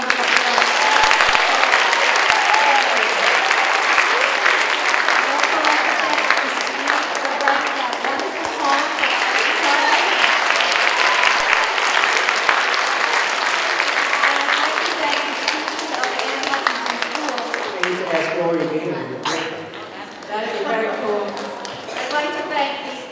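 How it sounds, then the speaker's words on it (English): Sustained audience applause for Mr. Katsoris at an Eastchester gathering, dense and loud for about twenty seconds before thinning out, with voices rising near the end. "give Mr. Katsoris another big round of applause"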